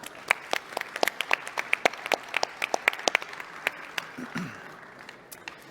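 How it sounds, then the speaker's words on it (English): Sparse, scattered clapping from a small audience at a Web Summit 2021 metaverse session, individual claps standing out sharply with a faint murmur near the end. "give them a round of applause"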